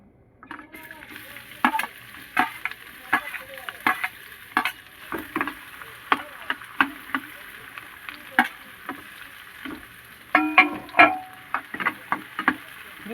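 Chopped onion and ginger paste frying in a little oil for a drumstick paratha filling, a constant low sizzle broken by repeated sharp clinks and scrapes of a spatula stirring the pan, busier near the end.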